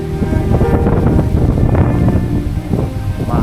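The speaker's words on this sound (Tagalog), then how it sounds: "Mahambalos yung hangin mga kapatid" Strong typhoon wind gusting hard and continuously at close range, a loud broadband roar with buffeting rumble on the microphone throughout, during a storm that has left the area without electricity.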